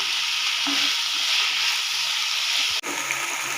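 Chicken pieces fry loudly in a pan, a dense up-close sizzle with a short stirring clatter and a sharp knock near the end, and no voices.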